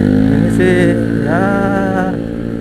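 A Yamaha FreeGo 125 scooter with a 125 cc engine accelerates on a night ride, its engine note loud and close, rising steadily in pitch before easing slightly, with steady wind and road rumble underneath.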